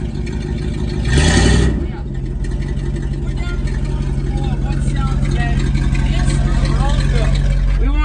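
A 1979 Dodge Power Wagon engine revs up in a loud burst with tires spinning, then settles into a steady idle while people talk nearby.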